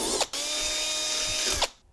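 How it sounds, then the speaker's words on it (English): A small-bit power drill bores into the sheet-metal hood of a Toyota 4Runner: a brief startup, then a steady, close whine for about a second and a half before it spins down. "we're going to start with a small drill bit and work our way up."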